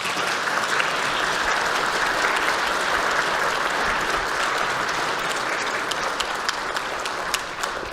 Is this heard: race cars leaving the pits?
no